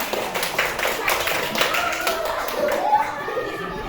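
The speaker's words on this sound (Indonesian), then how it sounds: "tepuk tangan untuk kelompok 5" Applause for a presenting group in a classroom, a dense run of clapping hands with voices mixed in, steady and fairly loud throughout.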